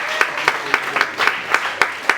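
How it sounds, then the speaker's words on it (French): A church congregation applauds in a steady, rhythmic clap, with sharp, evenly spaced hand claps over a softer wash of crowd clapping. It is brief and moderately loud. "Acclamez pour vous-même, acclamez."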